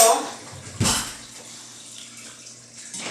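Water pours from a tap into a pan meant for boiling canning lids, a brief splashing gush near the start that settles into a faint trickle.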